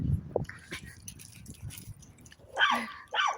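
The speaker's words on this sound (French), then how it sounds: "Parce qu'elle continuera à aboyer quand même" A small pet dog barks in short, sharp yaps, quiet and somewhat distant at first, then a louder burst of barks near the end, with faint household noise in the gaps.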